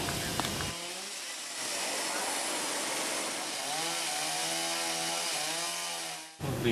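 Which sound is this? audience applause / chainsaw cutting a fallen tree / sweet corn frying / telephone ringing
chainsaw cutting a fallen tree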